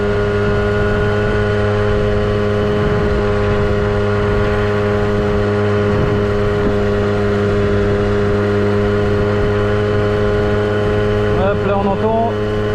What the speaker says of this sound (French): là on entend le moteur prend un tout petit peu plus de tours